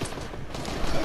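Rapid gunfire in Fortnite comes as a dense, continuous crackle of shots. It runs loud and steady for about a second, with no talk over it.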